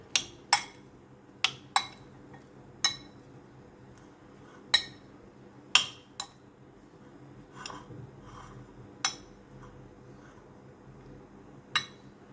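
Salad being mixed with salt and pepper in a bowl: sharp, isolated clinks of a utensil against the bowl come at irregular intervals over quiet soft rustling, close and with no talk.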